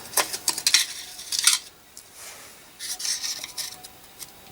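Wheel hubcaps being pried off a 1954 Panhard Junior, with faint metallic scraping, rubbing and light clinks in irregular bursts against a quiet background.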